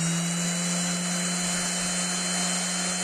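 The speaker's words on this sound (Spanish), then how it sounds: "La pongo a andar el taladro." A power drill runs steadily in a workshop while being set up for sharpening. It gives a constant, loud, close whine with a strong hum, holding the same pitch without pause.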